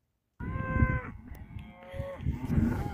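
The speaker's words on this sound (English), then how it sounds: "So most of the cows have come through now." Cattle being moved onto fresh pasture, with a close, loud drawn-out moo followed by further overlapping lowing calls from the herd, and no talk.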